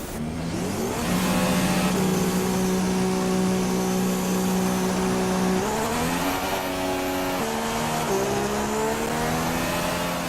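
Formula One race car in the F1 2016 video game pulling out of the pits at the Chinese circuit, a loud continuous engine whine rising and stepping up through gear changes, close and alone without talk.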